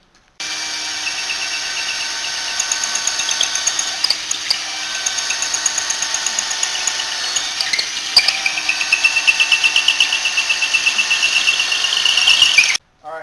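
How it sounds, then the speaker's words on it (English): A power drill bores a hole in plexiglass acrylic without coolant, a loud steady whine that runs almost continuously from start to near the end, then cuts off. "Alright, so at this point, after we've drilled this hole"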